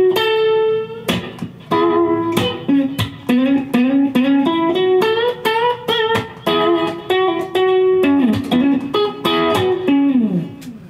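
An electric guitar plays the short first solo of a song live, entering as a pickup off the chorus with bent, sustained notes and quick picked runs, loud and close with no speech.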